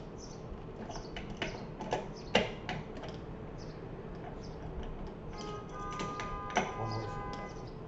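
A small wrench works on Graphtech Ratio locking tuners on a Squier Telecaster Custom, giving faint irregular metallic clicks and ticks close up in a quiet room.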